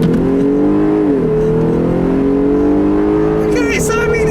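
A 2018 Jeep Wrangler Sport with a 3.6 liter V6 accelerates on a back road, its engine note rising loudly and steadily through the gears, heard from inside the cabin.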